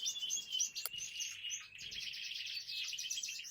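Lizard canaries chirping and twittering in an indoor bird room, a continuous bright chorus of overlapping high calls, fairly close and clear, with no one talking.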